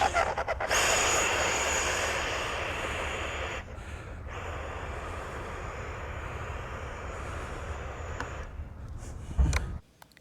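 A Freewing F-4 RC jet flies under thrust at the flying field, a loud sustained whooshing ducted-fan roar with brief dips, alone and steady for about ten seconds.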